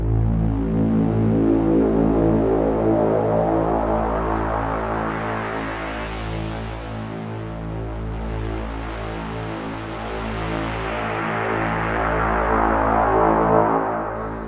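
A loud music mix is swept through its frequency bands with a boosted equalizer. The tone shifts gradually from a bassy rumble into brighter mid and upper ranges, and the sweep runs steadily with a brief dip midway. No voice is heard.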